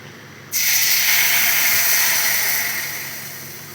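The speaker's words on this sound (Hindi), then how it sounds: "जब तक जीरा हमारा यहाँ पर तड़क रहा है" Cumin seeds crackle in hot oil until tamarind puree is poured in, setting off a sudden loud hiss that holds steady, then slowly fades over a few seconds.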